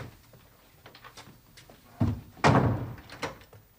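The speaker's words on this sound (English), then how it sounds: "Now, go on and shut the door." A door swings shut with a solid thunk followed by a louder slam, close by in an indoor room, amid faint rustling and footsteps.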